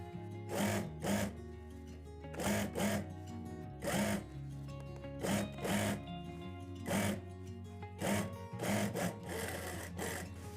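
A sewing machine stitches a trouser in short repeated bursts of rapid whirring, about eight runs separated by brief pauses, fairly quiet and close, with no talking.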